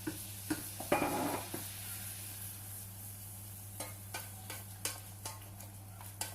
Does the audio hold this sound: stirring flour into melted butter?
yes